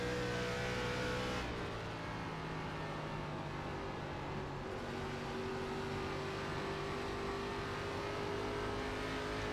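An ARCA race car engine drones continuously around Rockingham in iRacing, a steady, fairly quiet buzzing motor tone with slight pitch shifts as the car holds speed through the lap.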